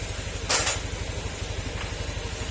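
Honda Beat FI scooter engine idles steadily in a repair setting, a low, even, rapid putter running throughout, with a brief metallic clatter near the start.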